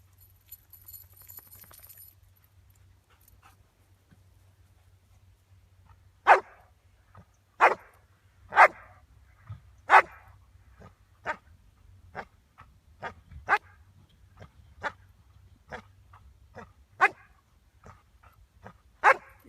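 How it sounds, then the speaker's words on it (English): A dog barks repeatedly at a steady pace, sharp and fairly close, over a low constant hum after a quiet start. "Not quite the intensity of barking I wanted"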